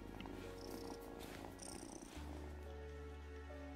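A cat purrs steadily in the Wylde Flowers farming game, a close, continuous rumbling purr running alone throughout with no talk over it.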